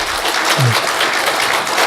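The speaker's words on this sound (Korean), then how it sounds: "박수로 한번 환영해 주세요." A church congregation applauds in welcome, a dense, even burst of many hands clapping that fills the room for a couple of seconds.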